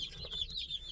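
Newly picked-up baby chicks chirping together inside a truck, a continuous high-pitched cheeping chorus that stays steady and fairly close, with no talking over it.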